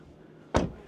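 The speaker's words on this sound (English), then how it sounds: "let's shut the door there" A BYD car door slams shut with one sharp, solid thud, close and loud, after a quiet moment with no speech.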